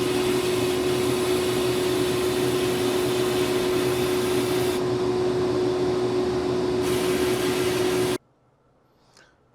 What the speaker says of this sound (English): the next step I'm going to do is sandblast the areas where the soldering is going to happen